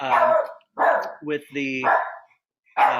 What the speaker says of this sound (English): someone's ringing my doorbell, freaking my dog out